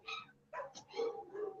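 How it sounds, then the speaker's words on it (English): Several dogs bark and yip in quick succession, fairly close, with a whimpering edge between barks. "my dogs are going nuts now."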